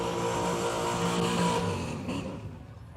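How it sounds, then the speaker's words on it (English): A drag race car at Willowbank Raceway in Australia does a long burnout, its engine roaring loud and steady with a rough, sustained rumble that fades slightly toward the end. "That might be biggest burnout contender right there."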